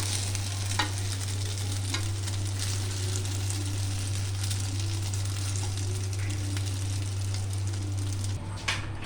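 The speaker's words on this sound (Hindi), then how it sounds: "ये देखें दोस्तों, ये अंडा फ्राई हो रहा है।" Small eggs fry in a pan for a shami egg burger, a steady close sizzle and crackle with scattered pops running unbroken until it briefly drops near the end.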